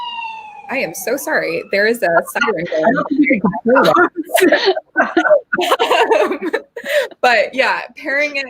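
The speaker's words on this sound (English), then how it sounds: "there is a siren going" A siren wails in the background beneath continuous close-up speech, its rising and falling tone partly buried under the talking.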